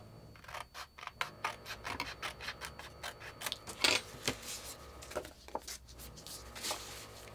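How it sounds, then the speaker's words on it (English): Scissors trim excess paper off the edge of a handmade notebook, a steady run of crisp snipping and rustling cuts close up, with no talking. "And then all I have to do is trim off the excess."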